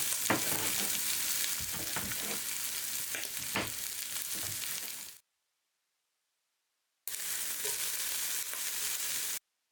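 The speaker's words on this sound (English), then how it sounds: "the ham is popping out of the pan, so it's time to give this a stir" Ham sizzling loudly in a hot pan for a quick stew, with crackling pops and stirring scrapes throughout, cutting out briefly before the frying noise returns.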